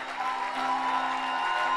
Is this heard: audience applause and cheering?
yes